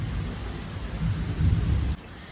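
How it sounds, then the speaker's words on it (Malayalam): Thunder rumbles low and heavy through steady rain, a close, swelling roll that peaks and then cuts off, with no voices over it. "നല്ല ഇടിയും മഴയും"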